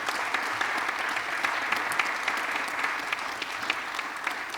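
A conference audience applauds its panelists at a cybersecurity and digital-defence event, steady dense clapping filling the room throughout without a break.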